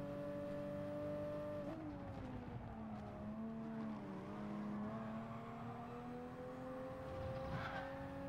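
Race car engines in Gran Turismo Sport hum at a steady moderate level, the pitch shifting and dipping slightly as the cars run through a corner, continuous with no talk.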